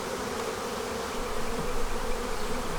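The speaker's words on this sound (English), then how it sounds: "Now the bees have left it alone for the most part. And they're still there, they just don't want to land." Honey bees buzz steadily around open hive boxes during a honey harvest, a dense, even drone with no talking.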